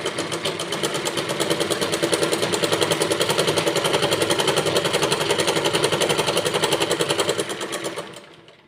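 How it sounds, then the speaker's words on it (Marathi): A sewing machine stitching a blouse seam runs at a steady fast clatter for about eight seconds, loud and close with an even mechanical pulse, then winds down and stops, no talking over it. "इथून एक शिलाई टाकून घ्यायची आहे आता इथे मी शिलाई थोडीशी मोठी करत आहे"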